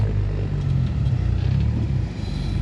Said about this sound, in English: I can hear Siylas like 50 feet above me doing rev and dumps